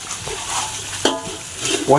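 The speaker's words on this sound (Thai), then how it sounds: "แล้วก็มาผัดกันเลยเดี๋ยวคั่วให้หอมก่อน แล้วก็ใส่เนื้อลงไปนะ" Beef with curry paste stir-fried in a pan for a Thai spicy curry-paste beef dish with cumin leaves: a steady sizzle with repeated scraping and tossing of the spatula, close and fairly loud, with no talk.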